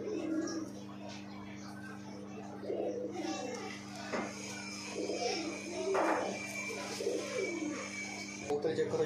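Pigeons coo softly and repeatedly nearby while people talk over them, with a steady low hum in the background.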